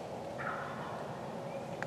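A wild turkey gobbles faintly from a distance in Tennessee woods, a short rattling call over steady outdoor background noise.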